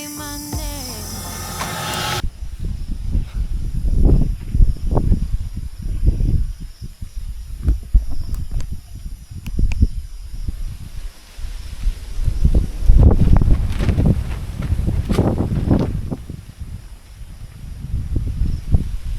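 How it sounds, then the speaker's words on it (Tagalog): Strong night wind buffets a tent at a campsite around two in the morning, coming in loud irregular gusts that rise and fade across the whole stretch. "Nagising nga ako sa malakas na hangin, bandang 2:00 ng madaling araw."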